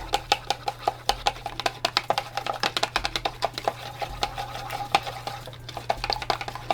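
Rapid, rhythmic clicking and tapping of a utensil stirring homemade cucumber serum gel in a container, close and steady, with quick repeated strokes throughout and no talk.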